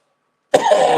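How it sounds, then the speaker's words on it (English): A single sudden cough bursts in after half a second of silence, close and fairly loud, then trails off into a rough throaty rasp. "Jesus was making me cough."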